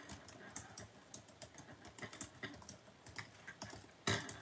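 Quick, uneven clicking of fingers typing on a computer keyboard, close and fairly quiet, with a louder keystroke near the end and no voices.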